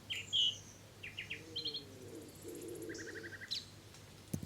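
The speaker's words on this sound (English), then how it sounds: "You might hear the croaks of the common frog and the whistle of the willow warbler." Clear willow warbler whistles and chirps ring out in short phrases over a quiet outdoor background, with a low cooing call underneath.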